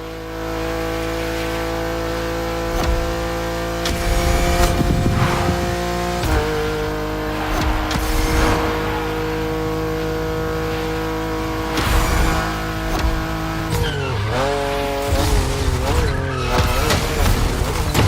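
A BMW with a large double kidney grille in The Crew Motorfest racing game, its engine droning loudly and steadily throughout, with repeated tire squeals and skids and some speech over the top.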